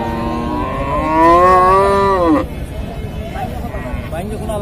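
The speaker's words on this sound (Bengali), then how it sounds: "আমরা কিছু ক্রস গরু দেখি এই পাশে।" A crossbred cow at a livestock market lets out one long, loud moo of about a second and a half, over a steady background of crowd chatter and market noise.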